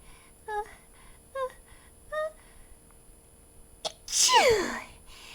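A voices a cartoon mouse character in a comedy sketch, with three short breathy hitches building up before one loud, forceful sneeze burst near the end.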